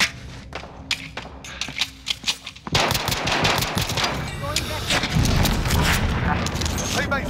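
Dense gunfire in Call of Duty Warzone, sustained automatic bursts with heavy thumps and booms that grow louder after the first few seconds, mixed with game voice callouts.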